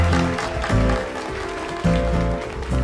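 An audience claps loudly for a wife's speech at a gathering. Sustained clapping blends with a pulsing musical backing across the whole moment.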